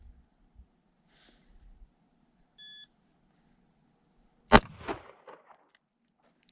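A shot timer gives a short electronic beep, followed about two seconds later by a single sharp pistol shot with a brief echo at an outdoor range, then faint fainter noises.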